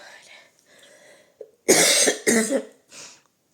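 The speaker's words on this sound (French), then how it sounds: "Excusez-moi, la toux." A few sharp, loud coughs in quick succession, close to the listener, following quieter background murmuring.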